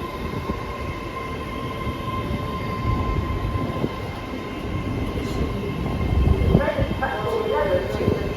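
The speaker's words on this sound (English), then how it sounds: "The train now approaches platform 10, not stop here." A train passing through platform 10 at York station without stopping, a steady loud rumble of wheels and carriages with faint squeals, under a station announcement.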